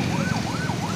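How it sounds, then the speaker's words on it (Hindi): An ambulance siren wails loudly in rising and falling sweeps over a dense bed of road traffic noise, heard close by on a busy street with no talking. "तो एक देखिए एम्बुलेंस आ रही है"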